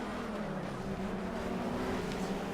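A loud race car engine in Project Cars drones at a steady pitch without a break, joined by the rumble of other cars on track.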